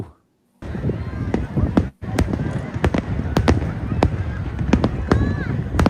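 Fireworks pop and crack repeatedly at irregular intervals at the Goshogawara Tachineputa summer festival in Aomori, Japan, sharp bursts over a steady crowd murmur, with a brief gap near the start.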